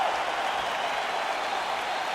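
A UFC arena crowd roars steadily as the fight is allowed to continue, a broad, sustained wash of cheering and applause filling the space without letting up.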